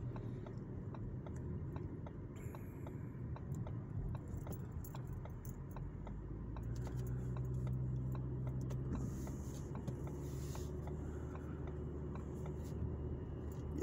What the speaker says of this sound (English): Let me get these cars go by.